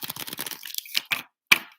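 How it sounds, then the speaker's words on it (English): An oracle card deck being shuffled by hand, giving a burst of rapid crisp riffling clicks followed by a few separate sharp snaps and taps, close and fairly loud, with no talking. "One more shuffle."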